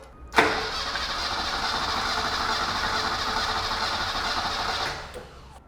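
A BMW E21 323i engine cranks over on the starter during a compression test on cylinder six, a steady rapid whirring churn lasting about five seconds, close and loud with no talking.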